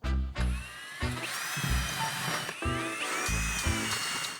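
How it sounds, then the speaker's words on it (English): A power drill whirs in several short bursts, revving up and winding down as it bores into material, close by and loud. "Now we gotta level it and drill some more holes."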